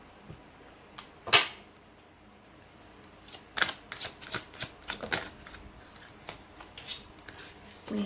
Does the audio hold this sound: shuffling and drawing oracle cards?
yes